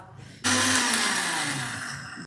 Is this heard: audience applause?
no